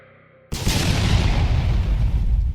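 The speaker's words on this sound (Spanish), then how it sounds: "La explosión fue brutal" A loud, brutal explosion bursts in abruptly after a half-second of quiet, followed by a sustained deep rumbling roar that stays heavy and close for the rest of the moment, with no voices.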